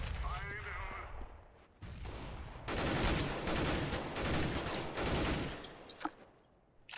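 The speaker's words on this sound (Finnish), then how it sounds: "Sillä joku ammuskelee avikalla." Sniper rifle gunfire in the video game CS:GO, a competitive match: loud, dense bursts of game gunfire dominate the middle of the clip, then drop into a few sharper, sparser reports near the end.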